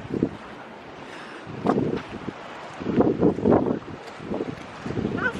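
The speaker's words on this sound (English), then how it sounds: "Sorry for the wind." Strong outdoor wind buffets the microphone in irregular gusts and thumps at a coastal former radar station, with people talking underneath.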